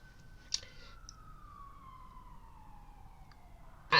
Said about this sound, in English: I hear these cops and these sirens in the background